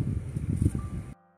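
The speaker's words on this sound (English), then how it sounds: "You see how windy it is." Low rumbling wind buffets the microphone outdoors in a vegetable garden, gusting unevenly for about a second before cutting off abruptly.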